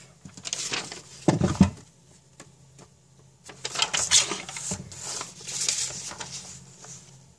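Paper cardstock being trimmed during a Stampin' Up! watercolor card project, with soft cutting and handling noises in several short bursts, close by, and no one speaking.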